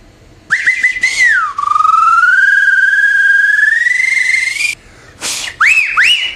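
A loud, close whistle starts with a few short chirps, then holds a long sliding tone, and ends with quick rising-and-falling warbled notes.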